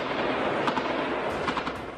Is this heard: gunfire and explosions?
yes